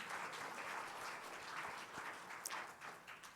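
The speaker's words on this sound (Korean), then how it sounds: "박수로 환영합니다" A church congregation at a Sunday worship service claps in welcome, a soft, fairly distant patter of many hands that carries on evenly for a few seconds, broken by one sharper clap near the end.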